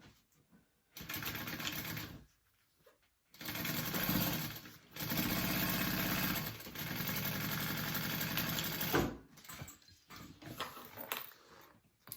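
A sewing machine stitches side pieces onto a tote bag with a 3/8 inch seam, running in several close, steady bursts of rapid mechanical chatter separated by short pauses.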